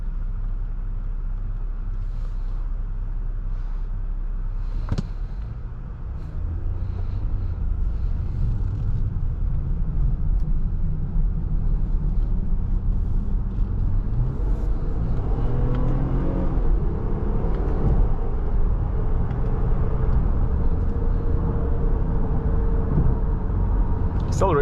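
A 2024 Nissan Pathfinder Rock Creek engine rumbles steadily and builds as the SUV accelerates, a continuous low drone with rising tone, heard from inside without talk.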